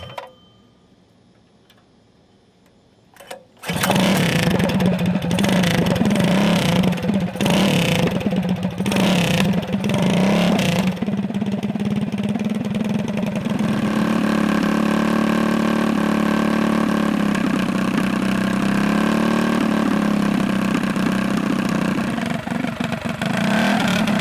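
A Predator 212cc small engine running on E85 fuel starts after a quiet moment, then runs loudly and steadily near the microphone with a rough, uneven idle and a few rises in revs.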